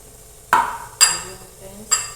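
A spoon stirring red chutney of garlic, cumin, coriander, chili and water gives three separate sharp clinks and scrapes against the bowl, close and fairly quiet, with a short pause between each.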